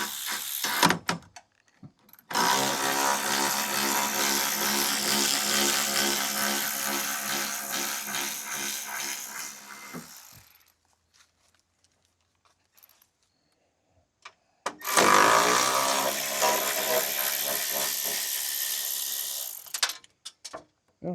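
Bolts being worked loose from the side panel of a Chinese diesel mini excavator, two long stretches of steady, close mechanical ratcheting and metallic rattling separated by a quiet pause.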